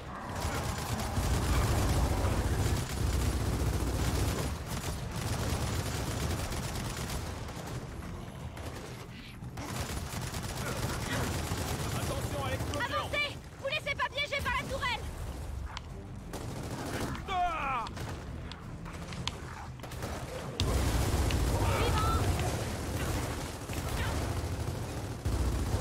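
Turret gunfire from Gears of War 4: sustained rapid bursts of automatic fire rattle loudly, broken by brief pauses and then resuming, with players chatting faintly underneath.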